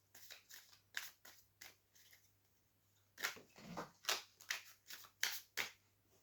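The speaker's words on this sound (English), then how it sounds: "I'll carry on shuffling." Tarot cards being shuffled by hand, a series of quiet, crisp riffling bursts in an irregular rhythm with a short pause midway, close and alone with no talk.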